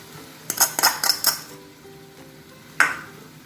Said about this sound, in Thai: เคี่ยวส่วนผสมให้เข้ากันก่อนนะครับเพื่อน ๆ คน ๆ ไปเรื่อยๆครับ